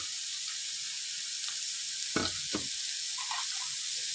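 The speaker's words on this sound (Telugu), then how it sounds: "ఇప్పుడు ఇది ఆయిల్లో మంచిగా మనము ఫ్రై చేసుకోవాలి" Carrots and beetroot fry in hot oil, giving a steady, close sizzling hiss, with a couple of brief stirring scrapes midway and no voice.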